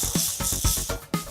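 A spray bottle holding homemade repellent of alcohol diluted with vinegar or water, shaken hard and close by, giving rapid rhythmic sloshing rattles at roughly six beats in just over a second.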